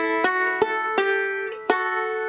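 Twangy plucked bluegrass banjo strings ring out in four sharp, evenly spaced attacks, strings 5 and 1 pinched together, each chord sustaining brightly until the next pluck.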